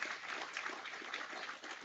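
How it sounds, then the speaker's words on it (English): An audience at the NZ Herald's Project Auckland lunch event applauds a panel, giving a brief, steady burst of dense clapping heard from within the room. "you give the panel, Brett, Desley and Dawn, a huge round of applause for joining us today?"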